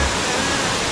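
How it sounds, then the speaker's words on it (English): A small waterfall in Bohol, Philippines, giving a steady, loud, close rush of falling water with no break. "Pretty cool little waterfall there."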